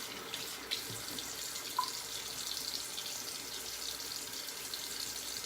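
A tap runs steadily into a sink while water is added to shaving lather, a constant close hiss of flowing water with a couple of small knocks.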